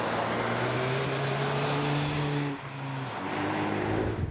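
A Nissan Juke Nismo's 1.6-litre turbocharged four-cylinder petrol engine hums steadily while driving, a smooth, moderate drone that dips briefly as the revs change and then settles again, with no one talking.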